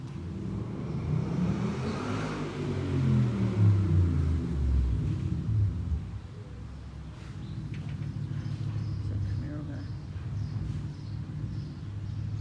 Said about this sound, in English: see how he revved the engine up?